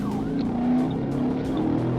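A car fleeing police on a city street loses control as its driver's side rear tire fails, giving a close, continuous engine roar with scraping, squealing tire noise.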